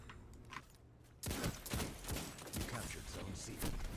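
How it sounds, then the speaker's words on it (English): Scout rifle fire in the Destiny 2 video game: a run of sharp, fairly loud shots in an uneven rhythm, starting partway in, over game sounds and a voice talking. "Yep, that's a scout rifle right there."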